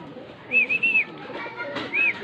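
Racing pigeons arriving at the loft give soft, whistling coos, a quick run of three followed by one more, close by against quiet background noise.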